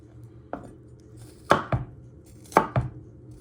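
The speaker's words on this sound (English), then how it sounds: "you just want to finally chop it into little pieces" A knife chops garlic on a cutting board for a chicken and spinach saag curry: five crisp, close strikes falling in quick pairs, with no talking.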